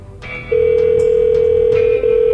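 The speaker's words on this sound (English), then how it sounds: "I'm going to be really sad if Kay doesn't pick up her work phone when I call back later" A telephone on an outgoing work call sounds a steady, loud ringback tone that holds for about a second and a half, breaks briefly, then resumes, alone with no talking.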